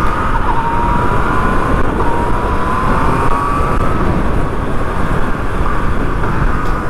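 A 2020 Yamaha MT-09 motorcycle pulls hard in second gear, a steady loud engine drone with a rising tone through the run and heavy wind roar under it, no speech.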